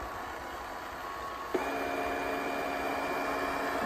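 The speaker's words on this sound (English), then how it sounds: "how it mops and vacuum." A steady mechanical hum runs throughout, then a soft click and a shift to a higher, fuller whirring drone as an Ecovacs Deebot robot vacuum and mop steps up its motor.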